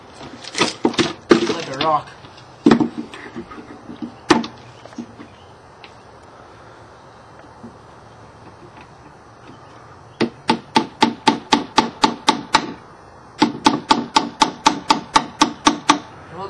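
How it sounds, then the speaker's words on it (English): Hammering the wooden back piece of a homemade birdhouse: a few scattered strikes, then two long runs of rapid, evenly paced sharp knocks, close and loud, with a brief spoken phrase early on. "So I'm going to start by hammering this back piece in"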